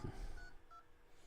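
Touch-tone dialing beeps from a phone placing a call to its own number, a short run of quiet tones over a low background hum, with no one speaking.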